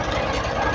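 A cold engine idling while warming up, a loud, steady, close-up chugging rumble with a fast regular knock.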